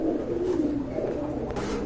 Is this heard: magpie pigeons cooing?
yes